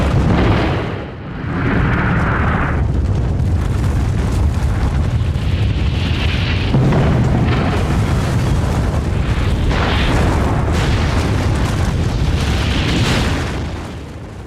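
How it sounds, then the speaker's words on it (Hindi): Atom bomb explosion, a loud, continuous roaring rumble with rolling booms and surges that swell and fade over many seconds. "ऐसा ही होता है जब एटम बम फूटता है।"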